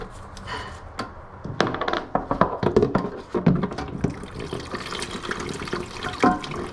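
Water splashes and gurgles in irregular bursts as a toilet drains during removal of its fill valve, close and fairly quiet, with drips and uneven gushes into a container.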